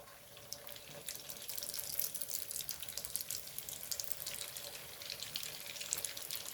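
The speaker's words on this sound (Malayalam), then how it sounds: "എണ്ണ ചൂടായിരിക്കുന്നു നമ്മൾക്ക് ഓരോന്നായിട്ട് ഇതിലിട്ട് കൊടുക്കാം" Quail egg snack pieces fry in hot oil with a dense, continuous hiss and crackle close by, rising slightly as pieces are added one by one, with no talking.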